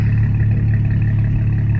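Dodge Challenger or Charger V6 engine running close and loud, a steady low rumble that holds throughout with no clear rev rise, no voices over it.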